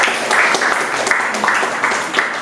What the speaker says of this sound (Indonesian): tepuk tangan untuk tadi yang sudah menjawab